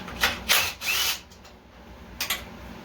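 A bolt being removed near the fuel line and carburetors of a Virago 1100 motorcycle, heard as a few brief close-up bursts of tool and metal noise separated by quiet gaps.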